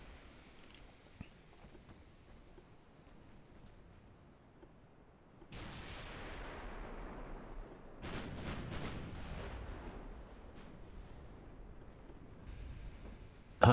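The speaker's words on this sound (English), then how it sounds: "Isaac Victoria has taken some torpedo hits." Naval gunfire and torpedo hits in a WWI-era battleship strategy game build from a faint rumble into heavy, sustained booming salvos and explosions. A louder burst of distant-sounding blasts rolls on for several seconds.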